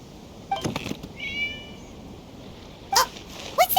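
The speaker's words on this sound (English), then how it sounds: "It was just a cat." A cat in Genshin Impact meows a few short times, with a brief tonal mew in the middle and sharper meows near the end, fairly close and clear over a quiet background.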